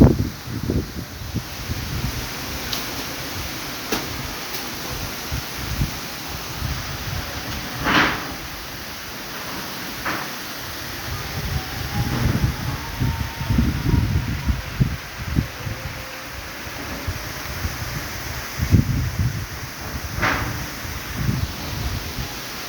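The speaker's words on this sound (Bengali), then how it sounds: "এবং প্রচুর পরিমাণ বাতাস বয়ে চলছে," Strong wind gusts through trees shedding leaves, producing irregular rustling swells and low buffeting rumbles that rise and fall across the stretch, with scattered clicks and no speech.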